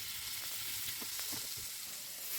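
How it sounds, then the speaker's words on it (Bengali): Chicken pieces fry in hot oil and butter in a pan, giving a steady crackling sizzle with a few soft stirring knocks underneath, close and continuous. "মাংসগুলো দিয়ে 15 থেকে 20 মিনিটের মতন লো ফ্লেমে ভালো করে ভেজে নিব।"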